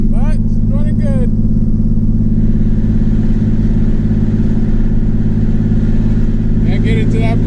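A twin turbo V6 car with a newly installed exhaust runs loud and close at a steady drone, with a person talking briefly over it at the start and again near the end.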